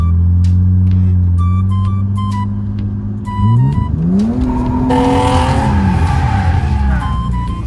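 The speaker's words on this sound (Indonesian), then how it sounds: "Awal gue ke kanan, gue gaspol, dump clutch-nya." A BMW E36 doing drifting donuts with a clutch dump, engine droning steadily then revving hard as the tires break loose into sustained squealing and skidding, loud and close, with faint talk at the start.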